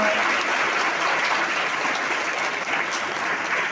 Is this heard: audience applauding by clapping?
yes